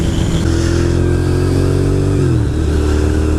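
Motorcycle cruising along country roads, a steady loud engine drone with wind rush, pitch dipping slightly as it shifts, close to the rider with no talking.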